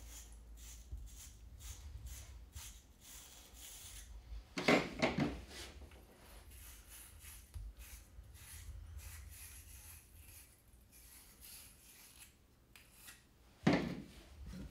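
Inside of a copper plumbing fitting for a shower valve is scratched clean before soldering, faint quiet rubbing and scraping with two brief louder rasping bursts, in a hushed room.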